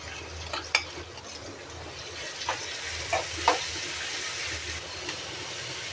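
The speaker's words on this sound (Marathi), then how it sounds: "आता आपल्याला कांदा घालून घ्यायचा आहे." Chopped onion hits hot oil already crackling with mustard seeds, cumin, curry leaves, chilli and asafoetida, giving a soft steady sizzle with a few quiet stirring clicks and scrapes in the pan.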